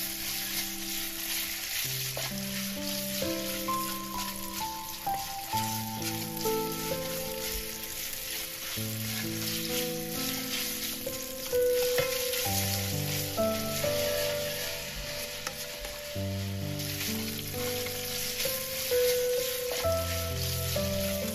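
Bean sprouts stir-fry with pork belly in a pan, a continuous close sizzle with soft stirring scrapes throughout, with background music and no talking.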